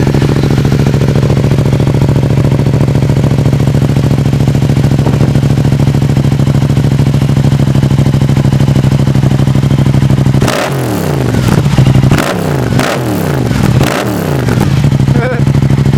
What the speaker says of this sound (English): here's what it sounds like with the new exhaust